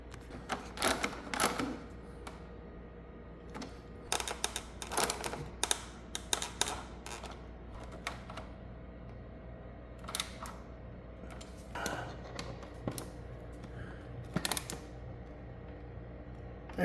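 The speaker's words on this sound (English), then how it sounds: "And now I'll just tighten my bolt." Ratcheting clicks from a wrench tightening a bolt on a 2019 Aprilia RSV4 RF1100 motorcycle during a coolant check, in quick irregular bursts with short pauses, close and fairly quiet.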